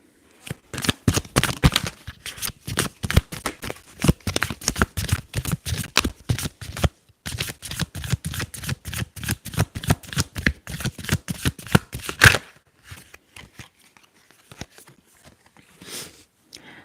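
Tarot cards shuffled close up in a quiet setting, a long run of rapid, crisp riffling flutters with a brief pause midway, then a few softer taps and slides as the deck settles; no talking.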